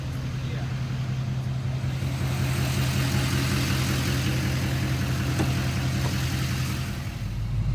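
A tuned Duramax LML diesel truck engine with an LB7-style rumble tune runs at steady idle, a loud, continuous low rumble that holds throughout and drops off near the end.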